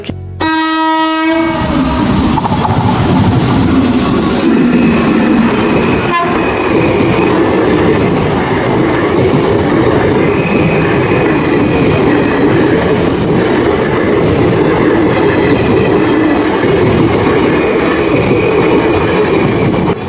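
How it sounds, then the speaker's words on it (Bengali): A train rumbles past close by at a level crossing amid open fields, a loud steady roar of wheels and carriages, with a horn blast at the start and rattling clatter throughout. "ট্রেনটা যখন আসছে দাঁড়া দেখেই নিই"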